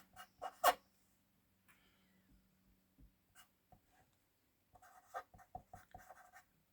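Pen writing inside a handmade Christmas card, quiet close scratchy strokes in short bursts, a cluster at the start and another near the end with near silence between.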